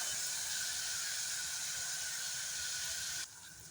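Dal ingredients fry in a pan with a steady, close sizzling hiss that holds evenly for several seconds, then drops slightly quieter near the end; no talking.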